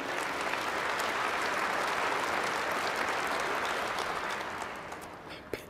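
Sustained applause from a large audience at the Russian President's 2024 address to the Federal Assembly, a dense even clatter of clapping that holds steady and fades slightly near the end.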